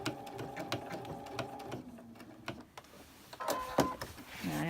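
A sewing machine stitches fabric for a quilted Halloween table topper, set to a narrower stitch width. It runs in short bursts of fine mechanical whirring and ticking, with pauses between runs, close and fairly quiet.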